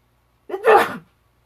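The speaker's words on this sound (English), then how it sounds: "Oh, I'm going to sneeze. I'm going to try to" A single short, stifled sneeze, close and fairly loud, in otherwise near silence.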